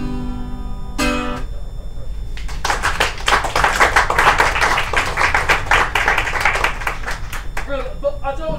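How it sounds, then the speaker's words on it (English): A crowd breaks into loud clapping and cheering after a short musical sting, the applause swelling and holding for several seconds before fading under speech. "They kiss, crowd cheers."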